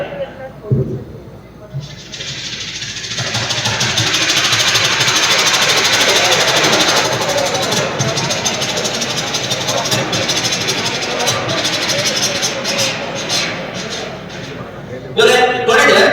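A voice imitates a helicopter as a mimicry act for children, a loud, continuous droning whir that holds steady for over ten seconds before breaking off into brief vocal sounds.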